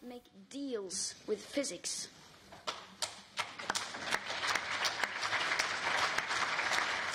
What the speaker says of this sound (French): L'intervention de Greta Thunberg a été saluée par des applaudissements.